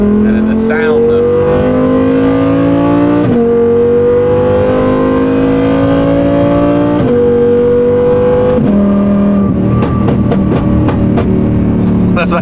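A supercharged BMW M4 CS sports car engine and exhaust rev loudly and close, the pitch rising and falling through several pulls, with supercharger whine and a crackling burst near the end.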